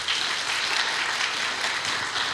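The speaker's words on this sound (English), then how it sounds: "I would like you to give them a round of applause real quick" A church congregation at a meeting breaks into steady, dense applause, many hands clapping continuously at an even level throughout.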